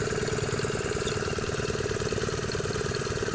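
A walking tractor runs steadily in a rice paddy, its small engine chugging loud and close with a rapid, even knocking rhythm that continues without a break.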